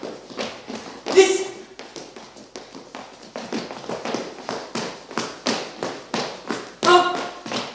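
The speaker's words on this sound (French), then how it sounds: "Je le frappe avec mes pieds, il résonne, grince," A dancer's feet strike a resonant floor in a steady run of sharp stamps and taps during a danced lecture, the beats falling roughly every half second, with a few heavier thuds and a faint creak among them.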